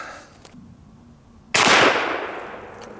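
An 1851 Navy revolver fitted with a Taylors and Company cartridge conversion cylinder fires a Winchester 148 grain hollow base wadcutter: one loud, sharp shot that rings out and decays over a second, outdoors with no talk.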